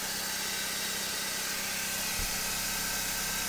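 BMW M43 four-cylinder petrol engine idling after an oil filter housing leak repair, a steady low rumble with broad hiss, heard alone with one brief low thump partway through.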